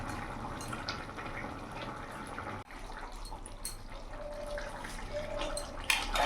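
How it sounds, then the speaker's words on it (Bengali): Jackfruit and shrimp curry bubbles in a pot, a steady close simmering wash with faint pops and a brief dip partway through, with no voices. "দেওয়ার সাথে সাথে ফুটতে শুরু করেছে। এবার কিছুক্ষণ ফুটিয়ে নেব।"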